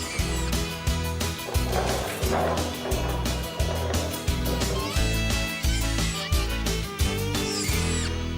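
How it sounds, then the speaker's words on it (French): A cartoon dog barks in quick repeated yaps over a bouncy music track with a steady beat, the barks sharp and close throughout. "D'accord, inutile d'aboyer"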